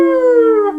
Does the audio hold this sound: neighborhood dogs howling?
yes